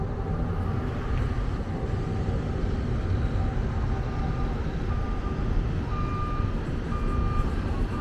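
Trucks reverse while being loaded onto the TMC ferry from La Paz to Mazatlán, their backup alarms beeping in thin, evenly spaced pulses over a constant low rumble of engines and dockside noise.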